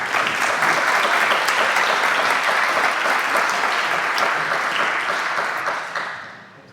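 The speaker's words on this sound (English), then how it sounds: "A round of applause for Arjan." Conference audience applauding a speaker at a hacker event talk, dense steady clapping close by that slowly thins and fades out near the end.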